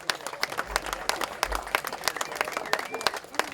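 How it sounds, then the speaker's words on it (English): Crowd applause and scattered clapping at a community playground build in Hartsuff Park, Rockland, a steady patter of hands at moderate distance with some voices mixed in. "Another big round of applause for that."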